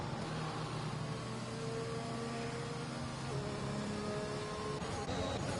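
Race cars in the F1 2021 video game circulate behind the safety car at Zandvoort, engines droning steadily at low revs with layered tones throughout, faint and continuous.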